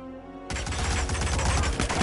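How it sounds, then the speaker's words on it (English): Rapid gunfire erupts suddenly in the video game Hitman, a dense burst of shots rattling close and loud after a brief quiet tonal lead-in. "Not fireworks this time. Gunshots."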